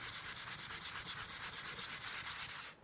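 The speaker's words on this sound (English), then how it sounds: "I'm going to go through various grits of soft pads" Soft sanding pads work over the body of a Hohner Rockwood Pro 250 guitar in steady, rhythmic back-and-forth strokes, close and loud, with no voices.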